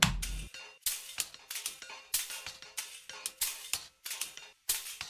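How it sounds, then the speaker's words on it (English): Hi-hat and shaker percussion loops play together in a music track, producing bright metallic hits and rattly shaker strokes in a steady, syncopated pattern, close and clear with no voices. "all the 3 percussion hi-hat shaker thingies together sounds like this"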